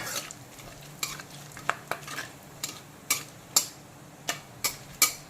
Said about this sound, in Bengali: গোটা গরম মশলাটা ভাজা ভাজা হয়ে গেলে দিয়ে দেবো পেঁয়াজ কুচি